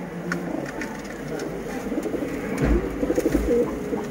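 Rampuri pigeons cooing nearby in repeated soft throaty calls, with a few louder low coos toward the end over faint background noise.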